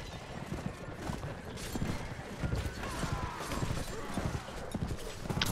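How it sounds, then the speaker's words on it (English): Cavalry horses gallop in the video game Mount & Blade With Fire & Sword, a dense, rapid clatter of hooves with creaking gear and an occasional whinny over a busy battle bed. "Oh, they come on horses."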